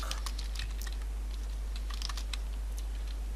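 Fast, light typing on a computer keyboard during a Ukrainian lesson on using the internet and Google search, with irregular clicks close up over a steady low hum and no talking.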